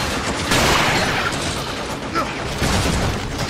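Sniper and rifle gunfire rattles through a battle in the video game Binary Domain, dense overlapping shots and booms over a steady roar of combat noise, loud and continuous with shouting voices mixed in.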